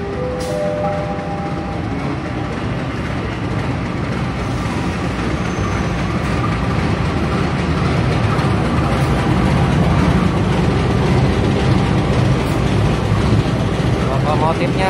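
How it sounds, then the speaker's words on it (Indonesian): A train led by a box-nose CC204 diesel locomotive arrives at a station, a steady loud rumbling engine and wheel noise building slightly, with a person talking over it. "sebentar lagi keretanya akan masuk. Ini dia keretanya. Ini lokomotif hidung kotak."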